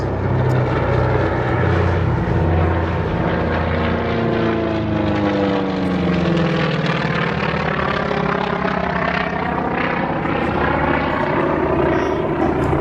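A propeller-driven Wildcat monoplane fighter flies past at the Duxford airshow, its piston engine droning loudly and steadily with a pitch sweep as it passes overhead.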